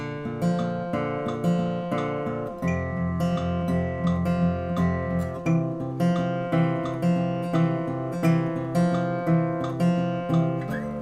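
Pre-chorus of a song on acoustic guitar at 75% speed, a steady fingerpicked pattern of ringing notes that shifts chords midway, played up close with no voice.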